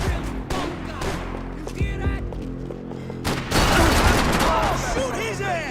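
Gunfire from the video game Max Payne 3, a loud sustained fusillade of rapid shots and bursts with booming impacts, growing denser and heavier midway, with shouted game dialogue mixed in.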